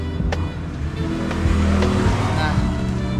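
Honda Wave 100 motorcycle engine, converted to a manual clutch, running close by with a rough, steady idle and a slight rise in revs, someone talking over it.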